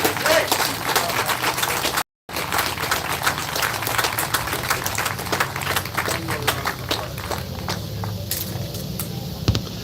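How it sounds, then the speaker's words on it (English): Audience applause at an outdoor rally for protecting kids, a steady wash of many hands clapping throughout with a brief dropout near the start, crowd noise beneath. "Let's give one more round of applause for Dr. Jake here."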